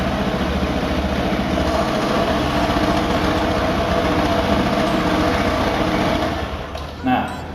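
A motorcycle with a CVT transmission idling steadily, its engine a continuous, even drone held for several seconds before dropping slightly near the end, with a brief knock as it trails off.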